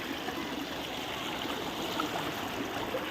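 A stream in Kallaar forest park flows in a continuous, even wash of trickling water, soft and close, with no talk over it.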